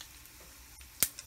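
Red chilies hit hot oil for vatha kuzhambu, a quiet background crackle followed by a brief sharp sizzling burst near the end.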